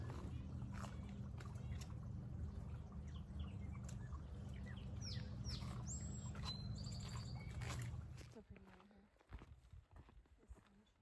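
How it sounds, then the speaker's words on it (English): Birds chirp and tweet in quick bursts over rhythmic paddle strokes in water; the low background hum drops away near the end, leaving sparser splashes. "listening to the birds, paddling"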